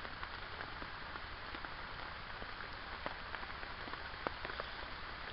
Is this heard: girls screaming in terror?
no